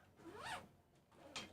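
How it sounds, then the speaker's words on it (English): A zipper on a musical instrument gig bag is pulled in two quick strokes, a longer rising rasp followed by a short sharp zip after a pause, close and quiet with no talking. "Let's see how the zipper is still working properly."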